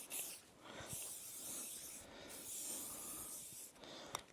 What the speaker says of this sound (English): You're going to need fly spray,